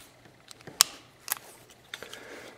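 A Sig Sauer P238 pistol being dry fired: two crisp, quiet trigger clicks stand out against faint handling noises in a quiet room.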